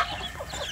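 Free-range village chicks feeding together, giving soft overlapping clucks and peeps close by in a brief, busy burst.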